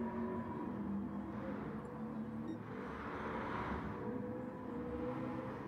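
A Ford GT40 race car engine in the video game Gran Turismo Sport drones and whirs steadily at moderate distance, a continuous mechanical hum with slight rises in pitch.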